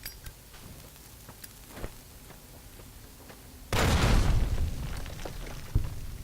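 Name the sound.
huge explosion in the video game Fallout New Vegas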